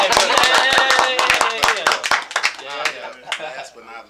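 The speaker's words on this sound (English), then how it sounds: "Let's go ahead and clap it up." An audience at a podcast taping claps in quick, loud, uneven bursts, while voices talk and cheer over the clapping throughout.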